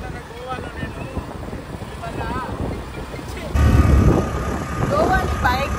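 Scooter ride through Goa, with steady engine and road noise mixed with wind buffeting the microphone, growing louder partway through, while people talk over it.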